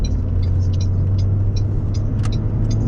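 A Saturn SC2 car's engine runs steadily while driving, a close, loud low hum and rumble inside the cabin with faint intermittent squeaks and clicks above it.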